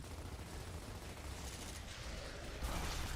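Gears of War gameplay on Insane difficulty: a dense, steady wash of explosions and gunfire rumbles throughout, with a fresh burst swelling near the end.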